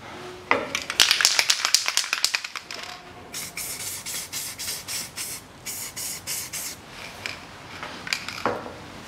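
Lubricant is sprayed onto the rear shock absorber mount bolts of a 2011 Hyundai ix35 in a run of short, close, hissing bursts, some rapid and some spaced, with a louder spray cluster at the start.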